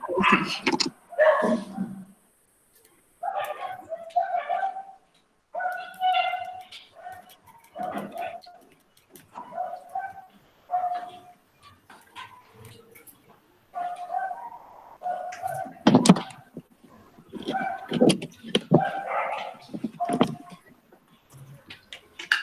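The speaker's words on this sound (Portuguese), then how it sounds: "perdendo tempo por causa do barulho do cachorro" A neighbourhood dog barks in repeated short bursts with pauses between them, fairly near and alone, with faint other animal calls in the background.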